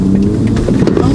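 A learner driver's car engine rising under the gas pedal while pulling away on a driving lesson, a brief loud low hum with no voices.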